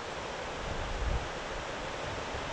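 River water along a wilderness backcountry loop rushes in a steady, broad hiss of flowing current, close and continuous with a slight low swell, with no voices over it.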